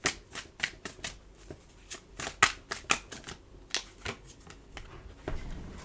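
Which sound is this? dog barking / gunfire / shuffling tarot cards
shuffling tarot cards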